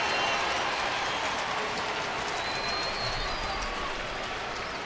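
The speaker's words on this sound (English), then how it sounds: "You got a few Red Sox fans cheering everything the Red Sox do" A baseball stadium crowd at an Oakland game against the Red Sox cheers and applauds in a broad, steady roar that holds for several seconds, with no clear announcer speech over it.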